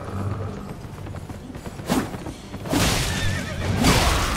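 Horse neighing in the Elden Ring video game, the spectral steed's whinny rising twice over game music and combat noise, loud and close with no voices over it.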